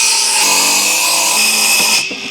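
A power tool saws freehand through a sheet of plywood for a folding 4x8 utility trailer build, a loud steady whining cut that holds for about two seconds and then stops abruptly.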